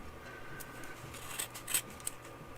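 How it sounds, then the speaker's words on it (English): Scissors snip through loops of scrap yarn, a few faint, quiet clicks and cuts over low background hum with no talking. "Put your scissors right through"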